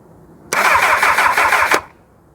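A 1999 Kawasaki ZX6R motorcycle engine cranks on a weak battery, one brief sluggish burst of starter churning lasting just over a second, close and loud, then stopping without catching.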